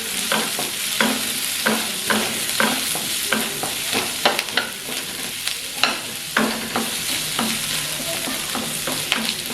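Onions are fried and stirred in a pan, with a steady sizzle and repeated scraping clicks from the spatula throughout, close and alone with no talking.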